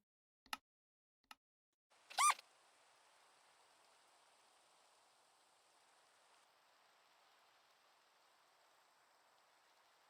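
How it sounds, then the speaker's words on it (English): Steady soft rain noise in a hardcore Minecraft-style survival game, a broad even hiss running for most of the clip after a few sharp clicks and a louder burst near the start, with no voices. "I don't like the rain sound."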